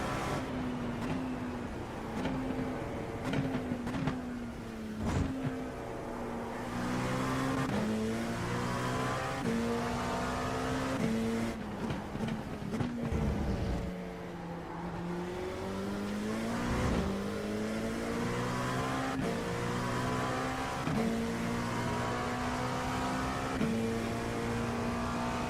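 An Audi race car in iRacing roaring through its gears, the engine climbing and dropping in steady upshifts and downshifts, with tyre squeal and a loud, continuous drone throughout.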